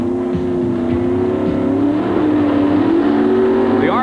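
Drag racing cars at a 1988 NHRA Atlanta Dragway event, a Motorcraft Thunderbird and a Pontiac with 500-cubic-inch engines, rev loudly with a steady high engine drone that rises as revs climb, heard up close with no talk.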